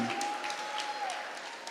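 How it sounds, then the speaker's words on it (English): Moderate audience applause at a national debate championship final, dense clapping that holds steady and then eases slightly, with a thin steady tone running under it. "Please give him a bigger round of applause,"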